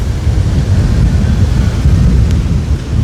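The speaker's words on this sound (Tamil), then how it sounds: "காற்று வந்து அவ்வளவு வேகமாக அடித்து கொண்டு இருக்குது" Strong cyclone wind roars across the Jaffna coast with waves pushing in, a dense, loud, continuous low rumble buffeting the microphone without pause.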